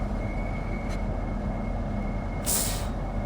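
Class 395 high-speed train in a train simulator game braking hard on the approach to a station, a steady low rumble with a sharp hiss of air brake release bursting out near the end.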